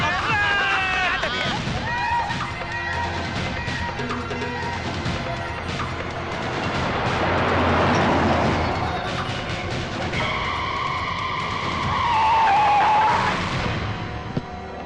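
A van screeches as it skids to a stop amid a dense, noisy scene, with tire squeals and rumbling mixed under overlapping voices and babble throughout.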